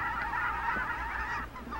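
Snow geese and Canada geese honking together in a dense, continuous chorus of overlapping calls, loud and close, heard alone without talk.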